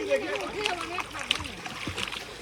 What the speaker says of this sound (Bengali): আর যে দেবা চলে যাচ্ছে সাঁতার কেটে।